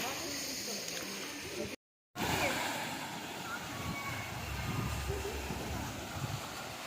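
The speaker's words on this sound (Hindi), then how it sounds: "देखिए कितना खूबसूरत ढंग से पानी नीचे गिर रहा है और झरना" The Panchghagh waterfall near Ranchi, Jharkhand, roars as a steady, dense rush of falling and flowing water, with wind buffeting the microphone and a brief dropout near the start.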